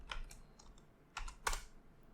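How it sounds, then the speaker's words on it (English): Quiet clicks of someone typing a short question on a computer keyboard, scattered keystrokes in brief bursts with a louder tap near the end, close and alone without talk. "let me just type in here once again, what is an"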